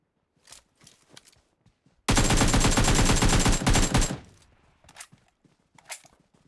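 In the mobile game PUBG Mobile, a single sustained burst of loud automatic gunfire rips for about two seconds, with quiet footsteps and soft thuds before and after.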